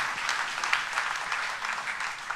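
Congregation at a church service applauding for about two seconds, a dense, steady wash of many hands clapping at even loudness, with no talking over it.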